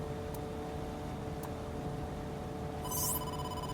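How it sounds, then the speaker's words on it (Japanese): A phone rings in the video game AI: The Somnium Files – Nirvana Initiative, a short electronic ringtone burst near the end over a steady hum of background game music. "Mizuki, you have a call"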